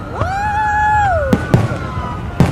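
Fireworks at a 2025 New Year show: a long rising, whistling tone glides up and holds, then several sharp bangs pop out of a steady background hum.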